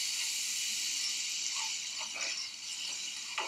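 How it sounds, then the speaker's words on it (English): Minced garlic sauteing in olive oil, a steady bright sizzling hiss that stays continuous throughout, with a few faint pops and clicks and no talk. "1 tablespoon of minced garlic, and you're going to saute it in your olive oil"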